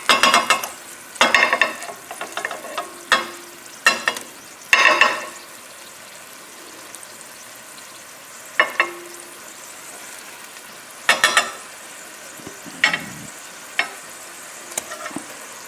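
Salmon fillet goes back into a pan with stock and lemon juice, sizzling and frying in loud bursts with stirring scrapes, then settling into quieter intermittent crackles.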